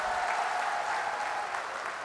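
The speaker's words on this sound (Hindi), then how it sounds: "तो जोरदार ताली हमारे उम्मीदवार करण सिंह जी के लिए बजा दो एक बार" Dense, steady applause from a large crowd at a Congress party political rally for candidate Karan Singh Uchiyarda, loud and continuous throughout with no pauses.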